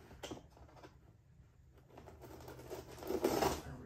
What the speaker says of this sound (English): I think we got some tape here on the edges we're gonna cut into